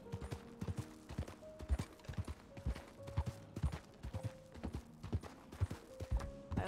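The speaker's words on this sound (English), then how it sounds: "Sometimes the horse just goes wherever it wants to go." Horse hooves clip-clop steadily in a western role-play video game, a close, regular rhythm of hoof strikes with a few faint tones in the background.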